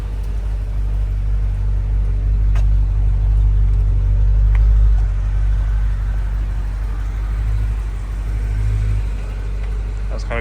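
A black Mercedes-Benz wagon drives along with a steady, loud low engine rumble and road drone that swells briefly in the middle, with a few faint clicks over the top and no talking.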